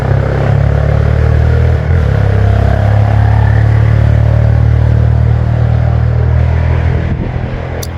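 A dirt bike engine runs loud and close in a steady, rough mid-pitched drone that holds at a constant level throughout, with a brief dip partway through.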